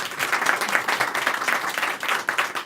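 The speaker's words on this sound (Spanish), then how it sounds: "Un aplauso para Martín Cáceres." An audience at a comics talk applauds an illustrator, a steady, even crowd of clapping that holds at a moderate level for the whole stretch.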